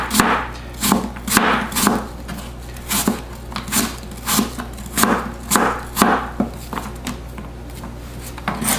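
Steady chopping of fruit with a knife on a cutting board for a tarte tatin, a regular series of sharp, close thuds about once a second, with no talking.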